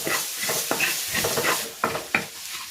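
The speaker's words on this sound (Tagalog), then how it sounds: "Igigisa ko na yung bawang." Garlic sizzles in hot oil in a pan for chicken fried rice, a continuous loud frying hiss broken by scraping stirs of a utensil against the pan, no voices.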